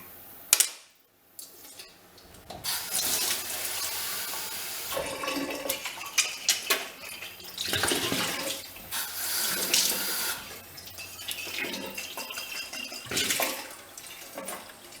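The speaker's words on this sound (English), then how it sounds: "Just rinse it out." An old milk bottle is rinsed out under a running tap, with a loud, close rush and splash of water that swells and sloshes in irregular bursts as the bottle is swirled.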